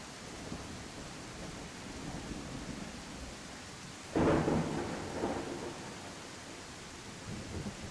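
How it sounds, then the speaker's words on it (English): Thunderstorm in the video game I Am Jesus Christ: steady rain hiss with a loud thunder crack near the middle that rumbles and fades, no voices. "It's too early for a storm, isn't it?"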